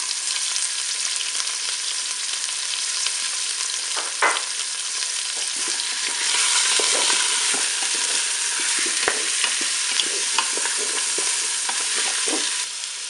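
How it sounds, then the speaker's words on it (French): Pork roast and onion pieces browning in a Cookeo pot, a steady loud sizzle with occasional stirring scrapes and clicks throughout, no talking. "je vais pouvoir faire revenir mon rôti. Je vais ajouter mes morceaux d'oignon."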